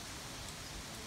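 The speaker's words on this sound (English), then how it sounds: "Rain." Heavy rain pours down during Hurricane Matthew as a dense, steady hiss that fills the whole moment with no break, close and loud with no voices.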